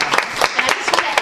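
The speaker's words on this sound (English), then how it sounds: "we have to give Rachel a round of applause for opening her house to us." Small group applause in a home gathering for the hostess who opened her house for a Rosh Chodesh Adar meeting, a brief patter of several clapping hands lasting just over a second, with speech blended in.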